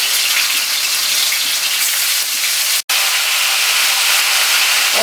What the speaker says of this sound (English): All I'm going to do is fry the chicken